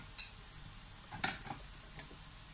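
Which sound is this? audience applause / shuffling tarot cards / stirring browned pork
stirring browned pork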